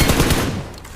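Distant gunfire in the mobile battle royale game BGMI, a rapid burst of muffled automatic shots rattling for about half a second before fading.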